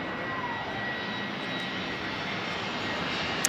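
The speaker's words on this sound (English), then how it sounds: "Plane just going by overhead." A small airplane passes overhead near an outdoor soccer field, its engine a steady, fairly faint drone that holds evenly throughout with no talk.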